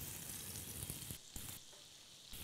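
Two cubes of butter sizzling in a hot pan before meat goes in, a dense continuous close crackle with a few short dips and pops, no talking.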